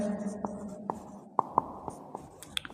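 Chalk or marker writing on a board during a discrete mathematics class, a string of short tapping strokes and scratches, close and moderately loud, with faint speech-like tones underneath at the start.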